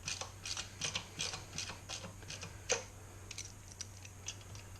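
A ratchet tightening bolts on a 1966 Bridgestone 175 motorcycle engine, a close run of rapid rhythmic pawl clicks in repeated short strokes, fairly quiet over a low background hum, with no talk.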